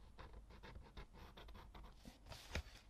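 A fine liner pen draws lines across watercolour paper in a stretch of close scratchy strokes, each short and dry, repeated steadily with a louder scrape near the end.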